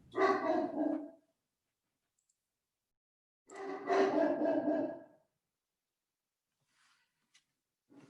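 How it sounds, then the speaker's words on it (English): A big dog lets out two separate bursts of loud barking, each lasting about a second and a half with a long quiet gap between them, and then faint noises follow. "let's get through it without the big dog barking"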